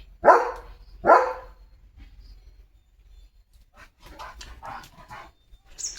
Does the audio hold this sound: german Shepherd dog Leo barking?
yes